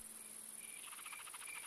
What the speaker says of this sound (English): The night air is filled with the songs of crickets and katydids.